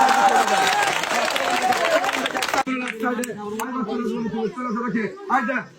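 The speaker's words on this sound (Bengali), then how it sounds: "সবাই আরেকটা জোরে তালি দিবেন।" Audience at an outdoor prize-giving with sacks of rice as prizes, clapping loudly in a dense burst that cuts off abruptly, followed by talking over a microphone.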